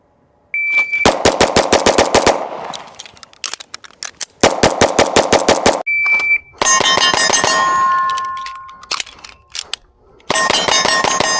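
A Sig Sauer P211 GTO pistol fitted with a compensator fires in quick bursts of sharp, loud cracks, with ringing metallic clangs and dings from steel targets between the strings of shots.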